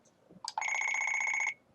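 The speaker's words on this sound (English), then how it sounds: "That beep was put in there specifically for recording" A single electronic beep, steady and bright, lasting about a second after a brief click, then silence.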